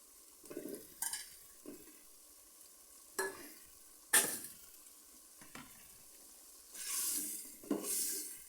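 Potato and tomato being sautéed in a pan for vegetable khichuri, with intermittent stirring scrapes and soft sizzling bursts spaced through the clip, ending in a louder stretch of frying hiss.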